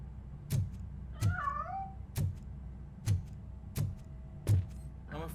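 In Robocop: Rogue City, six sharp, evenly spaced clicks or thumps repeat about once a second with a faint tone under them, and one brief rising, warbling cry. No one speaks.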